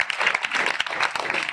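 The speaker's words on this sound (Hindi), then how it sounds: "मैं चाहता हूँ एक बार आप भाई साहब के लिए ताली बजाएं।" An audience at a local public gathering in Vidisha claps together in a short, close burst of applause, busy and uneven, with faint crowd murmur underneath.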